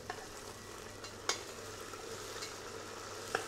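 Coriander leaves and mint frying in a pot of oil for chicken biryani made with depot rice, giving a steady faint sizzle with a couple of brief stirring clinks and no talk.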